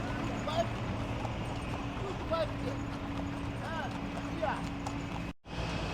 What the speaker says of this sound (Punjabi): ਸੜਕ ਦੇ ਵਿਚਾਲੀ ਜਿੱਥੇ ਜੀ ਕਰਦਾ ਘੋੜਾ ਰੋਕ ਲੈਂਦੇ ਆ